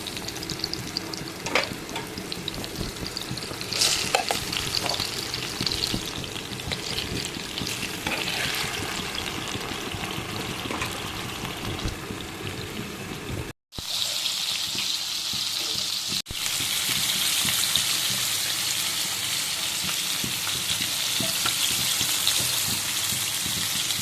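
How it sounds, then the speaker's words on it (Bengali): Marinated silver carp pieces sizzling in hot oil in a wok: a dense, continuous crackle with scattered pops, briefly cut off midway, then resuming louder and brighter. "এখন ফ্রাই করে নিব মাছগুলো কড়াইতে আমি দিয়ে দিলাম"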